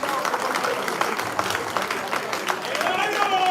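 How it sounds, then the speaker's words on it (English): A crowd applauding at a world press conference on the 2023 presidential election, with scattered claps and voices. A rising whistle or tone appears near the end. "He deserves another round of applause."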